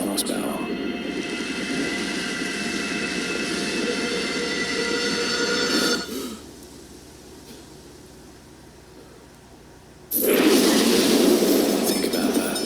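A train engine of over 1,000 horsepower passes on railway tracks with a loud, heavy rumble. The sound drops to a quieter hum for a few seconds, then surges back loud.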